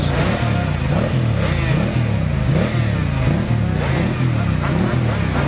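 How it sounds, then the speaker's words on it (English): A Ducati motorcycle races past at the Classic TT, its loud engine note rising and falling steadily as it passes close by in a continuous roar. "The bike just coming into view is number 20, John Barton, on a Ducati"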